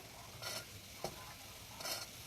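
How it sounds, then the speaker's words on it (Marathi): Cooked chickpeas tipped into a masala in a pan make a faint, soft sizzle with three brief stirring scrapes spaced across a couple of seconds. "आता ते चणे आपण इथे टाकून घेऊया"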